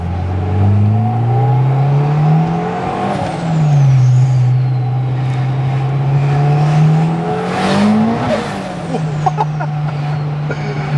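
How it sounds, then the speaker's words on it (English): Turbocharged 330 hp Honda DC2 Type R under load, a loud, steady engine drone rising and falling through two pulls, with the turbo's whistle and hiss sweeping up high and a faint pop near the end. "those turbo noises, they just don't go away"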